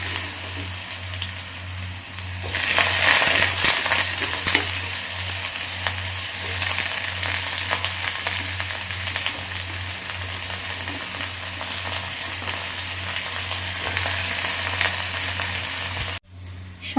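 Potato pieces frying in a hot pan of nigella seed and green chilli tempering, a loud, steady, close sizzle that swells when the potatoes go in and continues without speech, ending with a brief cutoff.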